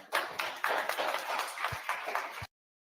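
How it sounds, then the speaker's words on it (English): Applause from the audience at a nonprofit workshop, a brief burst of many hands clapping, fairly close and full, lasting a couple of seconds before cutting off abruptly. "give yourself another hand of applause"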